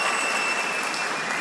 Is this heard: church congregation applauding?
yes